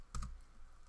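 Two quick keystrokes click on a computer keyboard in close succession, crisp and near, followed by quiet room tone.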